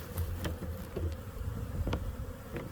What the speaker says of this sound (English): It's time for all these new bees to take orientation flights in this little box.